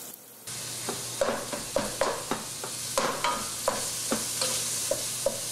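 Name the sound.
meat, onions and mushrooms frying in olive oil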